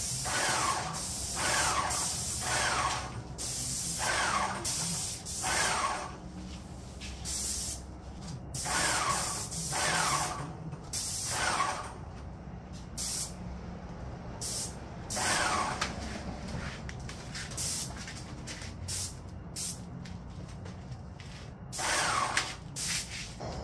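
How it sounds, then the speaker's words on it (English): Repeated bursts of a spray gun hissing as it sprays polyurethane onto a painted desk, each lasting a second or two with short pauses between, close and fairly loud over a low background hum. "I've got the polyurethane loaded up in my spray gun"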